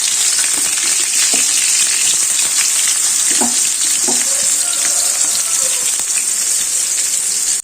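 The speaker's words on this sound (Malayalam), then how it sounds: "എണ്ണ ചൂടായി കഴിഞ്ഞ് കഴിഞ്ഞ കുറച്ച് വെളുത്തുള്ളി ചോമലൊക്കെ ഇടാം" Garlic cloves frying in a generous pour of hot coconut oil for a Kerala plantain and carrot stir-fry, a loud, continuous crackling sizzle with a few faint utensil knocks and no talking.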